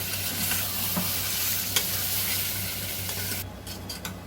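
Chicken masala being stirred with ginger, garlic and onions in a hot pan, a continuous close sizzle with scraping spatula strokes, and the sound cuts off sharply near the end.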